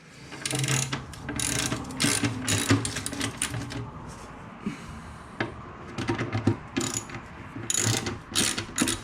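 Ratchet with a T30 Torx bit backing out screws on an access panel under an Arctic Cat ZR7000 snowmobile, rapid close clicking bursts repeated in several runs with short pauses between.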